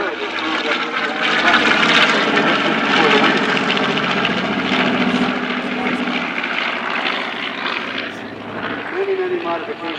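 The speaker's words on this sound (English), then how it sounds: "So we get down B-25Js. And those were moving up front." Loud, droning radial engines and spinning propellers of a B-25J bomber rolling past in a WW2 weekend bombers and transports parade, a sustained throaty roar that fades slightly toward the end.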